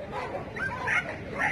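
Labrador dog at a Sunday pet market in Casablanca, giving a few short yips and whimpering barks, close by amid market chatter and voices.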